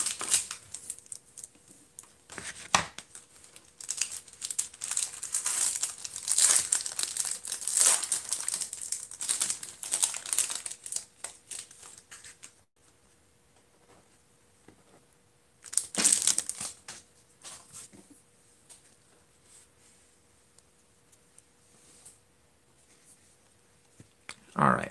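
A sports card box being cut open and unwrapped, with crisp crinkling and tearing of plastic wrap and cardboard in bursts, a long stretch of handling, then a quieter pause before another brief flurry of rustling.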